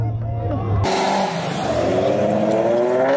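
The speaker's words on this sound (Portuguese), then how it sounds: "Um dos mais brutos V8 supercharge tração traseira ignorante." A rear-wheel-drive Ford Mustang with a supercharged V8 abruptly starts revving loudly, its engine pitch climbing steadily, while people talk over it.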